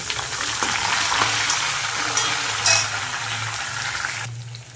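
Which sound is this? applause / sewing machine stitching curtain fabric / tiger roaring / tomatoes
tomatoes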